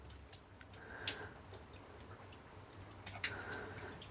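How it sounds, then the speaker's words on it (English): Rain dribbles outside a workshop on a wet English bank holiday: faint, scattered drips and light pattering with a few sharper ticks, heard from a distance. "Excuse the rain, it's a standard wet English bank holiday dribbling outside."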